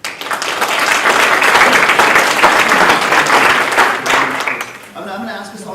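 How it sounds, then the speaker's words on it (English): Audience applause at a DFL gubernatorial candidate forum in Minnesota, a steady dense burst of clapping from a sizable crowd that fades after about four seconds as a voice begins speaking. "I'm going to ask us all to withhold our applause if we could, please"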